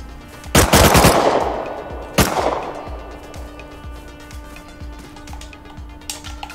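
Gunfire in the survival game Rust, with two loud bursts of shots near the start followed by quieter mechanical clicks and distant pops.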